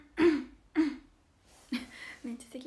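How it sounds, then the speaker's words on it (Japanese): Two short, throaty throat-clearing bursts, close to the mic, followed by a person starting to talk. "めっちゃ咳払いしちゃった。"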